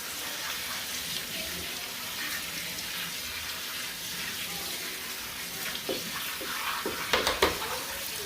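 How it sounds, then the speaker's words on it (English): Tap water runs steadily into a sink while fresh cabbage is washed under it, a constant broadband splash with a few louder clatters and splashes near the end. "I'm letting water flow so this can be washed extremely good"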